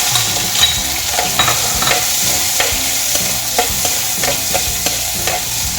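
Garlic and onion sizzle in olive oil, loud and close, as a utensil scrapes and clicks against the pan in an uneven rhythm.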